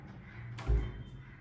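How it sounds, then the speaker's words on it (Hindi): A door in a makeup room swings shut on its own with a single dull, low thump partway through, close by, over a quiet room hum. "दरवाज़ा बंद कैसे हुआ"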